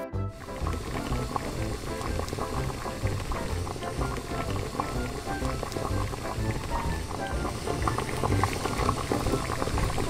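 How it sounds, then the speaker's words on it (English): Water boils hard in a miniature cooking setup with an octopus in the pot, giving a continuous, close, bubbling roil that stays steady and loud throughout. "First, boil the octopus."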